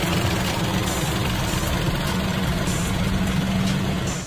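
A Peugeot 2008 three-cylinder turbo engine runs steadily at idle, a loud continuous low drone with a slight vibrating throb throughout, close to the listener and with no speech.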